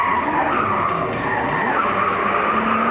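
A 2JZ-powered BMW drifting at a night drift event at Fritidsparken, Skien: a loud, sustained tire skid and squeal with engine roar, continuous for a few seconds.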